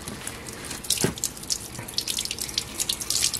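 Tap water runs steadily into a sink as pieces of oxtail are rinsed, a close, continuous hiss and splash with small bursts of spatter as the flow strikes the meat.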